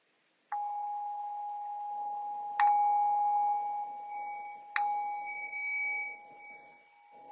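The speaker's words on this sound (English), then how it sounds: "I'll cue that by ringing the bell 3 times." Meditation bell struck three times, each strike a clear sustained ring that lingers and slowly fades, the next chime layered over the previous decay, in a quiet room.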